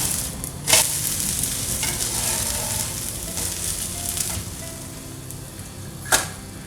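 Wheat dosa on a hot pan just after being flipped, giving off a steady close sizzle with a couple of sharp clicks of a spatula against the pan.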